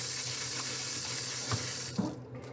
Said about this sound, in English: now, rinse these hands off again